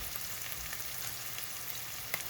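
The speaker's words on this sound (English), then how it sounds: "we got the onions sizzling away there" Onions fry in a pan on a steady, even sizzle, a quiet, continuous crackling hiss with small sharp pops scattered throughout.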